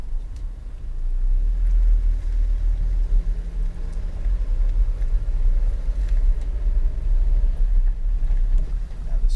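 A 2017 Chevrolet Colorado ZR2 pickup with a 2.8L Duramax diesel drives along, its engine and road noise making a steady, close, low rumble that holds without a break.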